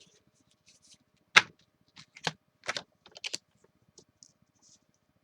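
Cut paper pieces being trimmed to size make a few quiet, crisp snips and clicks, scattered irregularly and heard alone, with one sharper cut standing out.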